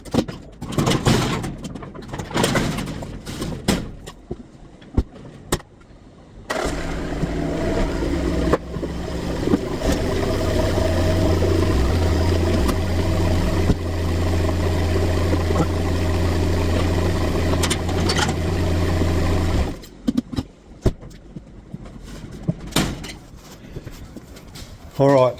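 A Mitsubishi Pajero engine runs steadily and loudly with a low drone as the vehicle is driven into place, while a voice talks intermittently before and after the driving.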